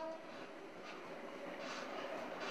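Steady rumbling and rattling inside a moving PNR passenger coach, the car rocking over uneven track with connections between coaches that do not sit level, a continuous close wash of train noise with no talk.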